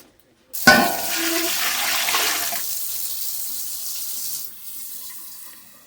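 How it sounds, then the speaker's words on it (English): Tap water gushes into an empty canning pot for jar sterilising, starting abruptly with a loud splash and settling into a steady close pour that softens near the end. "I'm gonna go ahead and fill this up with water and get my jars in here so they're sterile"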